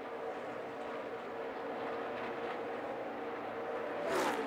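NASCAR race cars battling on track at Chicagoland Speedway, a distant broad engine roar heard from afar that swells with a passing whine near the end.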